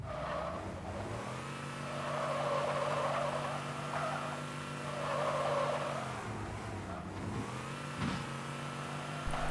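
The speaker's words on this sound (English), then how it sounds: "you can drive it around like a regular Warthog" Warthog vehicle driving in a Halo 3 mod, its engine humming steadily and rising and falling in pitch as it accelerates and slows, with faint tire noise and no talk.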